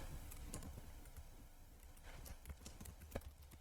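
Keys tapped on a computer keyboard while writing a Python script in a shell, a quiet, irregular patter of close clicks.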